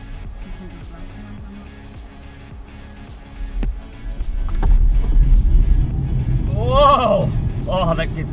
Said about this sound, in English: Now, next up we do an acceleration test.